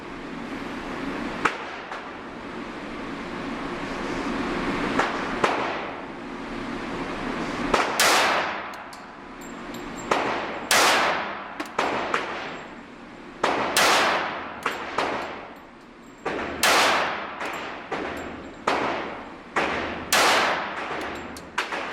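A .45 SIG 220 pistol fires eight shots outdoors, each a loud sharp crack spaced a second or two apart, with a steady background hiss between reports.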